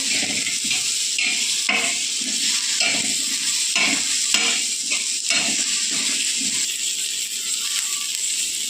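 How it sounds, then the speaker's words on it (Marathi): Cashews, coconut slices and garlic cloves sauté in hot oil in a pan with tomatoes, making a steady close sizzle broken by repeated spatula scrapes and stirring rattles. "काजू आणि लसणच्या पाकळ्या टाकूया हे पण छान आपल्याला परतून घ्यायचं आहे"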